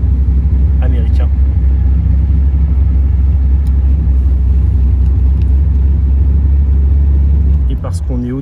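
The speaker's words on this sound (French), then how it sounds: "Sonorité typique du V8 américain." An AC Cobra MK IV Autokraft's American V8 engine rumbles loudly and close up with a deep, steady low-end throb, while brief voices are heard over it.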